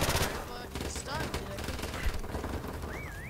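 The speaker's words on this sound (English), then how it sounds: "What are you shooting at?" Gunfire in Modern Warfare Remastered prop hunt: rapid bursts of shots blend with game sound effects, whistles and a chirpy rising tone, with voices chattering underneath throughout.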